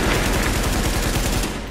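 Dense, rapid automatic gunfire in The Division during a Dark Zone firefight near a gas station, a continuous loud stream of shots with no pauses across the whole stretch.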